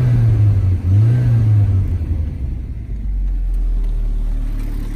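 A Saab 900 Turbo T8 eight-valve engine idles with a deep rumble, rises into a short rev and settles back, then holds a steady low drone, loud and close.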